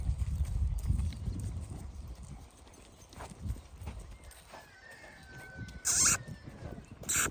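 A young mare's hooves clip-clop on the ground at an uneven trotting pace, fairly close, with a couple of brief sharp bursts of other noise near the end.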